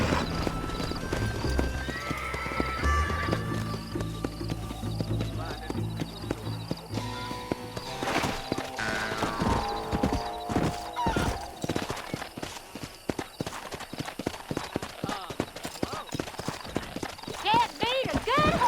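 Horse hooves clip-clop steadily alongside a whinny in Red Dead Redemption, set within a busy game soundscape with voices talking over it.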